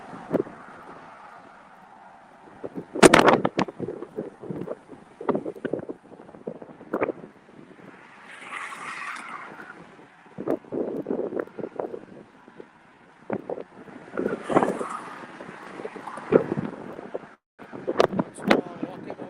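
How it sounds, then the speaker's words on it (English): Strong wind buffets the microphone while out near Key West, with gusty rumbling bursts, scattered knocks and clatter, and a brief hiss of spray or gusts, loud and close throughout. "Wind is pretty strong."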